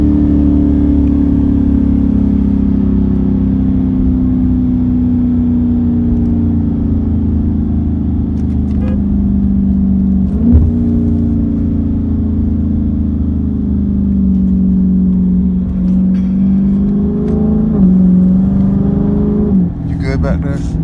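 A 2017 Dodge Charger Scat Pack accelerates hard with its tires spinning and burning out. A loud, close engine drone holds steady for the whole stretch, rising and dipping in pitch, with some brief talk inside the car.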